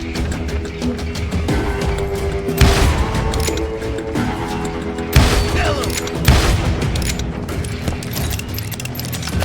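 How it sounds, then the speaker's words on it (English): Gunfire in the Western video game Call of Juarez Gunslinger, several loud sharp shots spaced a few seconds apart over busy action sounds and clatter. "Someone shoot that bastard!"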